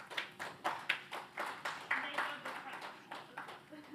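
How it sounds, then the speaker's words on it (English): A small audience at an awards event claps for a winning company, distinct individual claps in a loose rhythm of roughly two per second, fairly quiet and fading slightly toward the end. "So a round of applause for Goldman Sachs."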